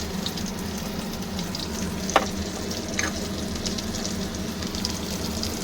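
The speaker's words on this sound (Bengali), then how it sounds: "এই আলুগুলো একটু লাল করে আমি" Potatoes frying in a pan for a Bengali boal fish curry, a close, steady hiss of oil with an occasional sharp clink of a utensil stirring, no voices.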